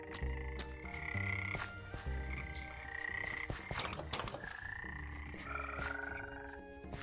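Frogs in modded Minecraft croak in a busy chorus, with overlapping ribbity calls and higher trilling notes repeating over several seconds at close range.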